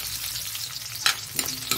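Chopped ginger sizzles in a hot pan, a steady close frying hiss broken by three brief scraping stirs of a utensil, with no talking.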